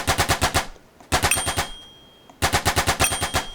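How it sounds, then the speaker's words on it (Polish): A Roblox video game gun fires rapid automatic bursts, three loud rattling strings of evenly spaced shots with short silent gaps between them. "Strzela dobrze i jeszcze tak naparza tak."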